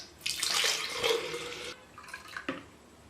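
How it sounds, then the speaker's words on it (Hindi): Water from straining falsa juice is poured back into a jug, a steady splashing pour for over a second followed by a few smaller trickles and splashes. "अब हम इस पानी को दोबारा फिर जग में डाल लेंगे"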